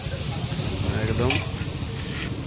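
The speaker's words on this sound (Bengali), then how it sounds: "কাকা একদম সুন্দর করে ভাজছে চাউমিন।" Chowmein stir-fried in a pan by a street cook, a steady close sizzle with scraping stirs and a brief metallic clink, continuous and fairly loud throughout.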